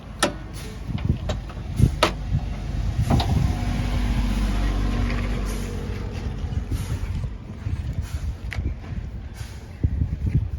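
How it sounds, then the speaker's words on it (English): A commercial truck's hood is tilted up: sharp clunks and latch clicks, then a sustained creaking, grinding movement, with a few more knocks as it settles, close by. "we're gonna put this hood up."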